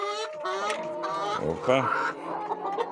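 Hens cluck in a newly built chicken coop, their calls rising and falling close by, with a voice speaking over them.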